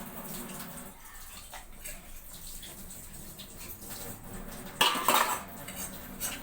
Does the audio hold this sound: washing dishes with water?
yes